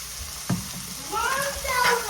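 Taco filling fries in a pan and gets stirred, a spoon scraping once before a rising sizzle takes over, with a voice nearby.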